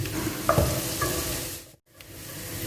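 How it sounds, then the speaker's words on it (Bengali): Chopped garlic and ginger fry with onions in a pan for masala noodles, a loud close sizzle with a few clanking stir strokes and a brief dropout near the end. "আবারও 1 মিনিট ভেজে নেবেন।"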